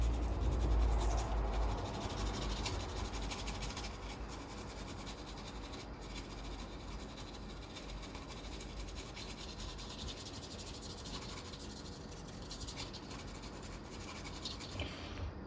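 Close, faint scratching and rubbing of a brush or swab cleaning the back of a Nintendo Switch Lite USB-C port replacement board, continuous and quiet with no voices.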